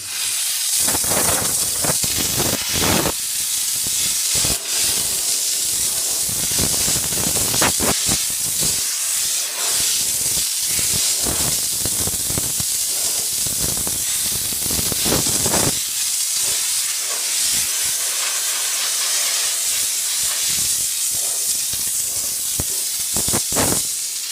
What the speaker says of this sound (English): we're creating very, very hot steam at a very high volume also